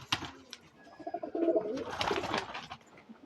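Pigeons coo in soft, rolling bursts at close range, with a few chirps and light fluttering around them and no speech.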